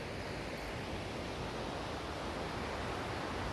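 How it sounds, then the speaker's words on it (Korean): Water flows steadily in a stream beside a bridge in Old Ellicott City, a dense, continuous rushing wash heard up close with no break. "물이 계속 이렇게 흐르고 있고"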